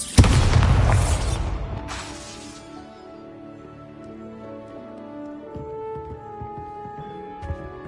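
A Bombarda spell blast in Hogwarts Legacy, a heavy booming explosion at the start that rumbles and rings out, followed by lingering tonal game music and a few faint later impacts.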